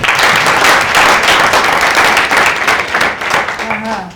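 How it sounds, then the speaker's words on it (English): An audience at the final day of a digital marketing skills program claps for itself in a loud, sustained round of applause, dense and steady throughout, with a voice briefly heard near the end. "let's clap for ourselves"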